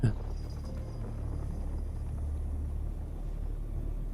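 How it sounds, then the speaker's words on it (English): An approaching sandstorm in the video game Dune: Awakening gives a steady, heavy low rumble with a windy roar. It holds constant throughout, with a brief sharp sound at the start. "I think there's a storm coming."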